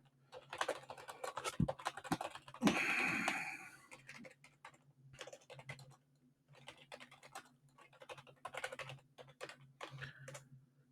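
Someone types on a computer keyboard. Close, crisp keystroke clicks come in quick irregular bursts with short pauses between them.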